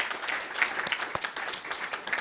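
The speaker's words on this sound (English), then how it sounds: "So could you all give them a big round of applause?" An audience at a development and jobs conference applauds steadily, a dense and fairly even patter of many hands clapping close by, with no voices over it.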